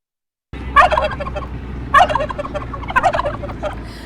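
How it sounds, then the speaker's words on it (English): Turkeys gobbling, a pair kept as the National Thanksgiving turkeys at Purdue; three loud, close bursts of rattling gobbles about a second apart, after a brief silence. "Peanut butter and jelly are this year's National Thanksgiving turkeys."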